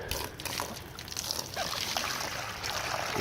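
Warm apple cider vinegar water is poured into a small rubber dish on a farm, a continuous close trickle and splash with some sloshing lasting a few seconds, with no speech over it.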